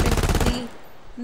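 A P90 fires a rapid, loud burst of shots in the video game Blood Strike for about half a second before the sound fades into a short tail.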